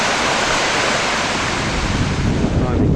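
Steady, loud rushing water from a nearby river beside a woodland camp with a plunge pool, a continuous roar with wind buffeting the microphone.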